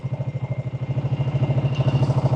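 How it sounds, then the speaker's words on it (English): A 1980 Honda XR200 motorcycle engine idles in a steady, even rhythmic thump, close by and alone, with regular pulsing beats, slightly rising in level. "Idles beautifully. It's carbureted perfectly."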